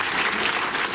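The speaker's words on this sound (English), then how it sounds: "Let's give them a round of applause." A brief, even wash of crowd applause at a hall of fame induction ceremony, steady and moderately loud with no voices standing out.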